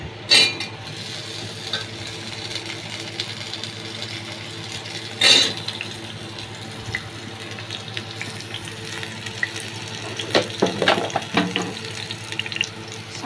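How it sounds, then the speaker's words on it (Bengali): Potatoes fry in a hot kadai for a mutton biryani, giving a steady, fairly quiet hiss with a few louder sizzling bursts and occasional utensil clinks. "প্রথমে আমি আলুটাকে ভেজে নেব।"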